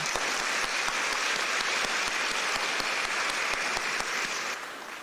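Sustained audience applause fills a banquet hall at a Taiwan–US chamber of commerce dinner, a dense steady clatter of many hands that holds for about five seconds before easing slightly at the end.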